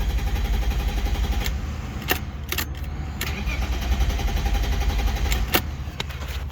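A BMW E36 engine with a faulty crank position sensor cranks but will not catch, giving a steady whirring starter drone broken by sharp clicks, heard close up with no talking.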